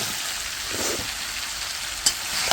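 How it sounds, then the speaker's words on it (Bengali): Vegetables sauté with spices in a pan, giving a steady close sizzle and crackle with a brief clink near the end and no speech. "সবজিগুলো দিয়ে কষিয়ে নিই।"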